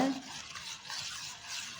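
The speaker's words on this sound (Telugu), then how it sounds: "ఒక స్పూన్ వరకు కారం మొత్తం వేసేసి ఇలా కలిపేసుకున్నంత" A spoon stirs a chili powder mixture in a bowl, giving soft, faint scraping and swishing that keeps on steadily through the short clip, with no talking.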